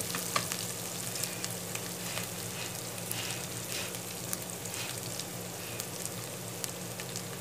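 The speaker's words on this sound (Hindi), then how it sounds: "जो लहसुन है अदरक है इसको फ्राई" Steady sizzling and crackling of garlic and ginger frying in a pan, with occasional stirring clicks, fairly quiet and continuous with no voices.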